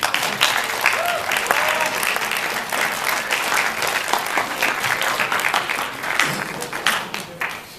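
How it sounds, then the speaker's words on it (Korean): Audience at a Korean lecture on life management bursts into sustained, dense applause, loud and close, filling the room evenly for several seconds. "박수 치라고 하면 쳐."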